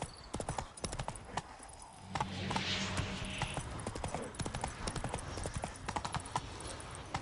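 Roach the horse gallops in The Witcher 3, a quick, steady clip-clop of hooves up close that keeps going without a break, with game ambience under it.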